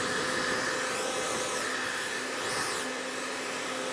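Heat gun set to hot on high, blowing steadily on a wheel rim, a continuous loud fan-and-air roar with a shifting whine and no talking.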